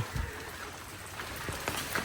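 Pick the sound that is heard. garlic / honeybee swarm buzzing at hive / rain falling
rain falling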